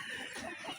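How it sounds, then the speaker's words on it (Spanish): Hens cluck softly in a backyard henhouse, a brief low murmur of fowl sounds under steady background hiss, with no voices. "directamente de la casa de la tía Nanita, miren su gallinero"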